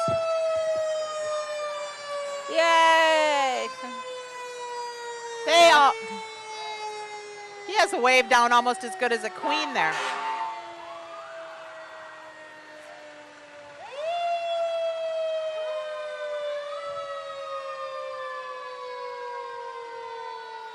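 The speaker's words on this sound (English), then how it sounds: "I don't know if we can be heard over these sirens" Fire trucks and emergency vehicles sound long, wailing sirens that rise and fall during a 2008 Hudson Booster Days parade, with blasts of horn cutting in, while bystanders talk and cheer close by.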